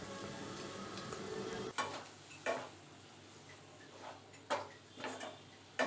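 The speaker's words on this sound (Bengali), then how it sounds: "নাড়াচাড়া করে সবজির সাথে সসটা ভালো করে মিশিয়ে নিচ্ছি।" A pan of chowmein vegetables being stirred with tomato chilli sauce and ketchup, giving a soft sizzle and a few sharp scrapes and clicks of the spatula against the pan at an irregular pace.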